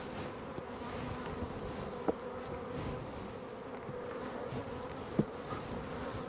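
Honeybees buzzing steadily around a beekeeper working a hive outdoors, a dense continuous hum close to the microphone with a couple of faint knocks, and no talking.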